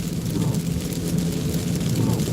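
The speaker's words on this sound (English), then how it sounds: "I'll just record the rain and keep my mouth shut and let you guys just enjoy the rain and the wipers" Rain falls on a car during a night drive, a steady, dense patter over a low road rumble, with faint sweeps that may be windshield wipers.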